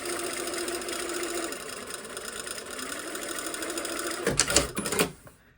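Sewing machine running steadily while stitching a curved slash pocket corner, a continuous close motor whir with needle chatter, ending in a few louder clunks before stopping.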